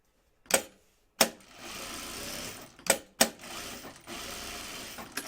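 A sewing machine stitches along the two long sides of a fabric bag, starting and stopping in short whirring runs with sharp clicks between bursts, close and alone without talk.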